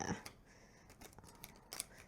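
A smaller matte tarot deck riffle shuffled by hand, crisp flicking card rustles in short bursts with a couple of snaps, close but quiet.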